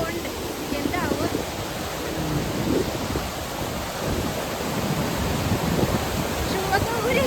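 Rushing water of a Himalayan waterfall near Turtuk village, a steady broadband roar that fills the whole clip at close range with no clear breaks.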